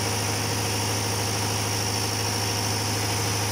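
An engine runs at a steady, close idle with an even vibrating hum and no change in pace throughout, and no voices.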